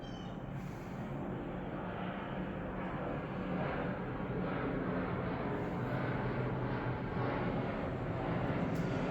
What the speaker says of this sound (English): Good wait for that plane to pass